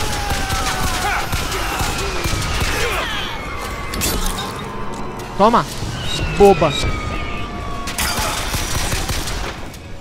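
Gunfire in the video game Bioshock Infinite: bursts of shots and crashing impacts from a firefight, loud and repeated across the clip, with a player talking and exclaiming over them.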